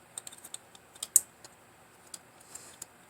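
Small plastic parts of a Transformers Earthrise Voyager Class robot toy being folded and clicked into place, giving a scattered series of faint, light clicks and taps with one slightly sharper snap partway through.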